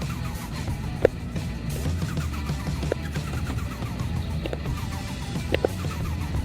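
A car engine starts up in a racing video game built around rebuilding cars, turning over and settling into a low, steady rumble with a few sharp clicks and knocks, running alone without any talk.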